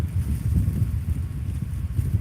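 Steady low wind rumbles and buffets close to the microphone at an RV campsite on a cold, rainy day, a continuous blustery roar with no voices.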